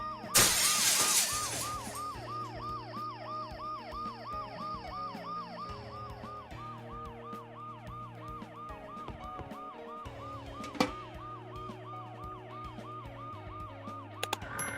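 In the video game Dead Synchronicity: Tomorrow Comes Today, glass shatters loudly at the start, then a wailing ambulance siren cycles steadily over the synthetic game soundtrack, with a few sharp clicks later.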